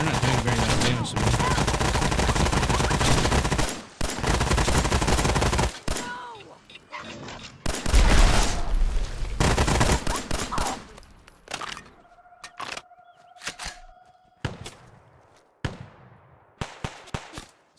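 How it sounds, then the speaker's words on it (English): Enemy gunfire in the video game Fallout 4, heard as dense bursts of shots in the first half followed by scattered, sharper single reports and short volleys, loud and close, with no one talking. "They're shooting at me. They're not doing very much damage to me."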